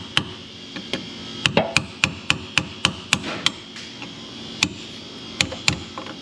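Sharp metallic hammer taps drive a frozen rear differential bushing on an Infiniti G37 into place, a dozen or so close, loud blows in irregular clusters with brief pauses, no talk.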